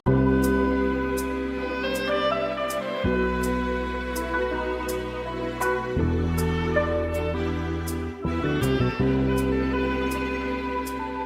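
A sampled recording of a soul song plays, a steady groove with a regular beat and sustained instrumental tones running continuously throughout.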